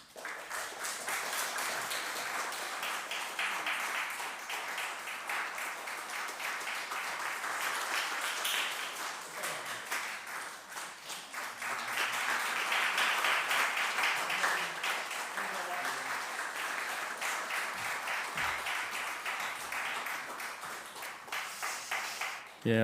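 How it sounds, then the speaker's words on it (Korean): A church congregation at a Sunday worship service gives congratulatory applause, sustained indoor clapping from many hands at moderate volume that swells midway and continues for over twenty seconds. "축하의 박수 드리겠습니다."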